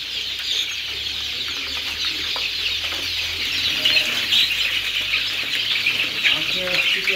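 Day-old Egyptian Fayoumi chicks make a busy chorus of overlapping high peeps and chirps nearby, with faint flutters, continuing throughout.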